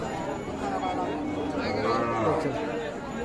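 A cow lets out a single drawn-out moo amid the murmur of a crowd of people chatting nearby.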